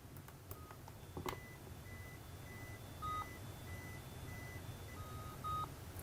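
Registration beeps from a 3M C1060 wireless drive-thru headset pairing to a C922 base: short, quiet electronic tones repeated through the clip, with a few brief higher chirps over a low steady background hum.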